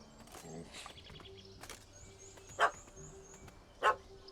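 In The Witcher 3: Wild Hunt – Hearts of Stone, a puppy barks up at a cat in a tree, with a couple of sharp yips standing out over a quiet game soundscape, some faint voices and music.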